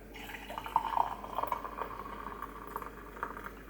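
Hot water is poured from a kettle into a mug already holding milk and a tea bag, a soft trickling, bubbling pour that lasts a few seconds, close and fairly quiet.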